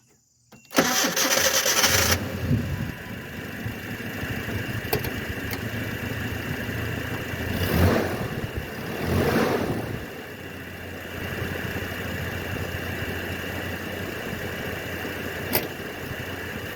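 A Nissan D21 pickup engine starts and then runs steadily at half throttle with a constant mid-pitched drone. The drone swells twice and then settles again.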